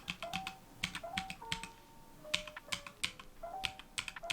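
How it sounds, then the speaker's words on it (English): Quick bursts of keystrokes on a HyperX 80% computer keyboard, close and crisp, tapping in uneven clusters with short pauses between, with no voices over them. "It's a HyperX keyboard, which is goated."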